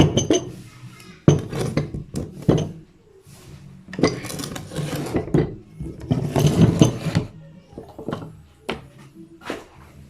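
Two pipe wrenches work on brass pipe fittings of a water sub-meter, one holding and one tightening, giving a busy run of metallic clinks, scrapes and rasping knocks at close range with no voices.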